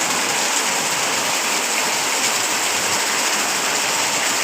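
Heavy rain pours steadily during a flood in the old town of Nalgonda, a dense, continuous hiss that stays loud and even throughout with no voices.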